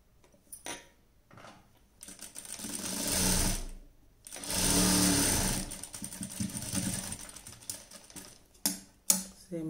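A sewing machine stitches underwear cloth in two fast, close bursts of rapid mechanical chatter, separated and followed by quieter handling and clicking sounds.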